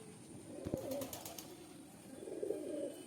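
Good-quality racing pigeons coo in low, soft, rolling phrases at close range, with a brief flutter of clicks between two cooing bouts and no speech.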